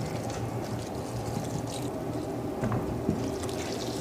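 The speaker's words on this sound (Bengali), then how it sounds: "লাউ ধুইতেছি।" Water runs steadily as a bottle gourd is washed, a continuous close splashing and gushing flow with a slight rumble, no one talking.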